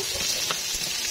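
Meat and spices sauté in hot cooking oil, giving a brief, steady, close sizzle with a soft stirring scrape partway through and no voices.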